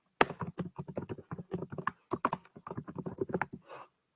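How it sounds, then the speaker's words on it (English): Fingers typing on a computer keyboard, a close run of quick irregular clicks with short pauses, ending in a soft final tap. "I'm going to type out"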